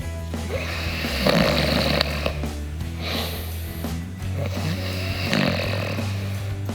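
A person snoring loudly and close by in a 2023 Volkswagen ID. Buzz camper at night, with rough, rattling snorts repeating in a slow breathing rhythm.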